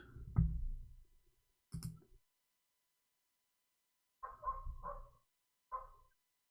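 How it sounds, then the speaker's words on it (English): A few dog barks and yelps come in scattered bursts from a distance, faint and separated by stretches of silence. "I don't know if you can hear them in the background."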